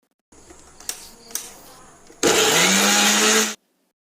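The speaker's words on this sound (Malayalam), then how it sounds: "പച്ചമുളക്, മല്ലിയില ഇതൊക്കെ ചേർത്ത് ഒന്നുകൂടെ നന്നായി അരച്ചെടുക്കുക." Green chilies and coriander leaves being ground in a kitchen mixer: a few faint clicks and knocks, then a loud steady whir for about a second before it cuts off abruptly.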